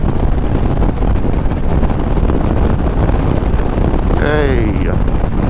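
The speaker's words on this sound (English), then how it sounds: "It's kind of windy now." Steady, loud wind roar buffets the microphone throughout while riding a new Indian Chief motorcycle, with a brief rising whine or voice near the end.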